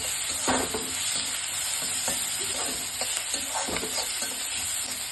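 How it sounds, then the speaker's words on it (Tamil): Sliced onions and curry leaves frying in hot oil for a roadside-style salna curry, a steady loud sizzle broken by the scrape and clatter of a spoon stirring the pan. "வெங்காயம் நல்லா வதங்கணும். கருவேப்பிலை போடணும்."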